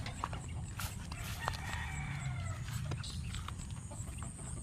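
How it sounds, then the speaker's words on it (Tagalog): Chickens cluck and call on a rural farm plot, a busy mix of bird sounds over a constant low background rumble with no talking. "Mga manok na."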